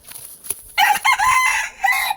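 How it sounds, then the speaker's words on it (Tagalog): A rooster crows once at close range, a loud drawn-out call with a rising start and a held ending, preceded by faint background noise and a brief knock, in a backyard where pigeons are kept. "may manok na"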